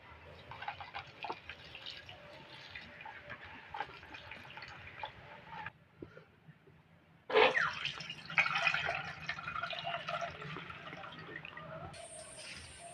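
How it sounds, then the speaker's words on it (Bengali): Food rinsed under running tap water in a Bengali home kitchen, a steady splashing, dripping wash with a brief lull midway and then a louder, fuller stream of water near the end. "এবার জল দিয়ে ধুয়ে নেবো।"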